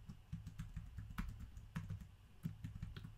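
Keys clack on a computer keyboard as a password is typed, a steady run of quiet, close taps with a few firmer strokes, no talking over them.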